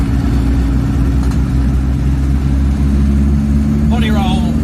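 A Reliant Robin's engine drones steadily from inside the car as it accelerates along the road, a loud constant hum with someone speaking near the end.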